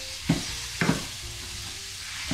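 Ground beef sizzles in a pan for a Lebanese kibbeh dish while a utensil stirs it, giving two sharp scraping knocks over a steady soft frying hiss, close by and without talk.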